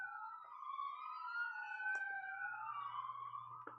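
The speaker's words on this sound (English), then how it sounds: "Fire truck number 3." A fire truck siren passes nearby, its wailing tones sweeping up and down continuously and loudly over a low engine rumble, with no talking.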